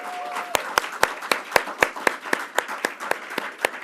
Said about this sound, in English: let's give another round of applause to our governor